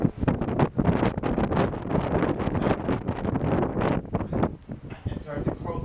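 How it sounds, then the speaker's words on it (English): Gusty storm wind on Sint Maarten buffets the microphone in rough, uneven bursts throughout, loud and close, with a voice faintly mixed in. "it's getting really windy"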